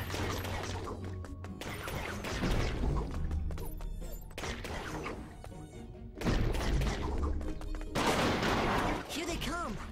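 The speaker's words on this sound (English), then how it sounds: "Ferb, pull out your baseball launcher!" A baseball launcher fires in the Phineas and Ferb: Across the 2nd Dimension video game, heard as repeated loud thumping shots and crashes in several bursts over game sound effects and music.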